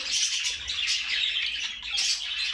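A female bird squawks and chirps repeatedly in shrill, raspy calls, close by and steady throughout.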